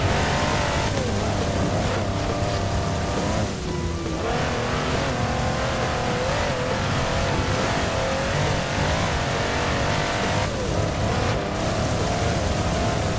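A V8 six-wheeled 6x6 truck in Forza Horizon 4 roars steadily with sustained loud revving and shifting engine pitch, close and continuous throughout with no voices.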